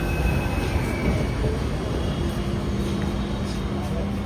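Steady low rumble and rattle of a Pune metro train in motion, heard from inside a carriage, with faint murmured voices nearby.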